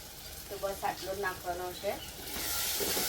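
Onions sautéing in oil in a pan, a soft steady sizzle with faint stirring scrapes, low in level, while a voice talks over it.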